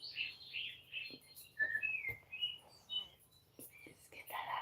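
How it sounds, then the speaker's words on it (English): Small birds chirp and tweet in a sanctuary setting, a quick run of bright high calls and short whistles, close and fairly clear, with faint soft voices whispering underneath. "listening to the bird noises"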